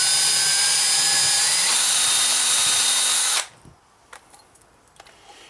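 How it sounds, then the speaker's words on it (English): A cordless power drill bores into the plastic nock of an Easton Axis arrow, a loud steady whine that shifts pitch partway through, then cuts off abruptly, leaving faint clicks and handling noises. "So you just take a little power drill, cordless."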